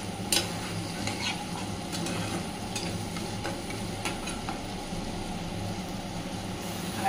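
Browned onions fry with ginger, green chili and garlic paste, giving a soft, continuous sizzle under repeated spoon scrapes and stirring knocks spread through the stretch.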